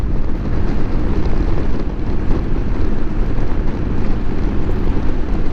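Wind roars and buffets around a motorcycle helmet while riding at night, a loud, continuous rushing noise that fills the whole stretch with no speech.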